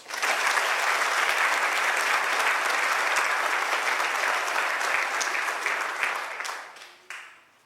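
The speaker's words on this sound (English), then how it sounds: "Please give them a round of applause." School audience applauding students awarded vocational training grants: a loud, sustained wash of clapping that stays full for several seconds, then tapers off with a last few claps.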